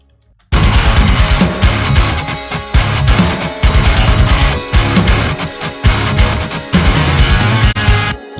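Loud, dense heavy rock mix of Monuments' "Jinn" passed through an automatic EQ on the mix bus, punchy drums and distorted guitars hitting in a steady rhythm after a short silent start, with no speaking.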